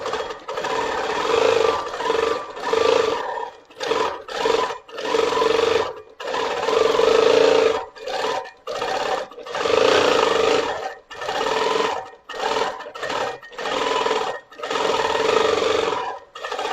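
A sewing machine fitted with a regular foot stitches a quilt in repeated start-stop bursts of rapid mechanical whirring, close and steady, broken by short silent gaps.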